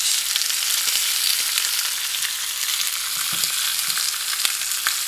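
Vegetables for an Irish stew frying in a pan, giving a steady broadband sizzle with crackling pops throughout, fairly close and without speech.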